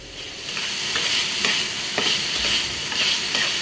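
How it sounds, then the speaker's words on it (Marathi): Tomatoes with salt stirred and frying in a pan, a steady close sizzle with a spoon scraping through it every half second or so, no voices. "आणि दोन टोमॅटो टाका चवीनुसार मीठ टाका आणि याला मध्ये मध्ये हलवून घ्या"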